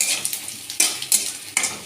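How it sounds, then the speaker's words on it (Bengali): Cumin seeds tempering in oil with onion and chili sizzle in a pan, broken by several quick stirring scrapes of a utensil in an uneven rhythm, close and clear with no talk. "একটু জিরে দিয়ে দিই, অল্প একটু ফোড়নের মতোই, যেহেতু পেঁয়াজ মরিচটা আগেই দিয়ে নিচ্ছি।"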